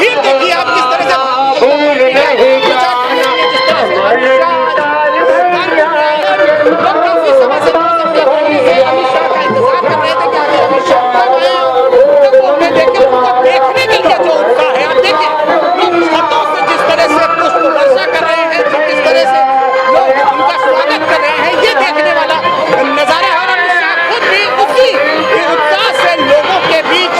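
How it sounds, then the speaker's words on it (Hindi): A large crowd at Amit Shah's election road show in Kanpur makes a loud, steady hubbub of many voices, with shouts and chatter blending into one dense roar that holds throughout without pause. "वो भीड़ देखिए आप किस तरह से"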